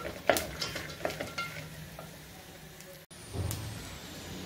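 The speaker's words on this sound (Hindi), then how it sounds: "ये ड्राई फ्रूट अच्छे से भून चुके हैं" Dry fruits roasting in ghee in a pan for coconut laddu, with a few stirring scrapes and clinks early on over a faint, steady sizzle.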